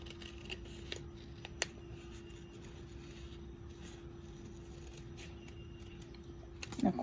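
Scissors snip through folded paper for a paper sculpture, with several quiet, close cuts spaced out over a low steady hum and a louder rustle at the end.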